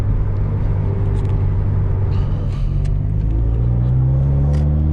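A loud Subaru WRX engine roars as it accelerates in fourth gear, its deep rumble climbing steadily in pitch over several seconds with no voices.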